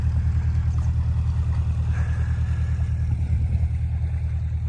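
A canal boat engine on the River Lea chugs steadily at close range, a low, even rhythmic throb with no voices.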